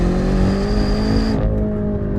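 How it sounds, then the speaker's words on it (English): A sports sedan driven on a track, its engine induction roaring loud and steady from inside the cabin, pitch holding then dropping as the throttle eases near the end. "The induction noise is sick."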